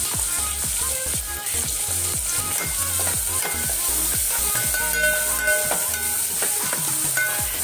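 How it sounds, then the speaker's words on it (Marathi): Spices roast and sizzle in hot oil for a tempered dal, crackling and popping with frequent sharp spits over a steady frying hiss, close and lively throughout. "आपला मसाला मस्त भाजलेला आहे"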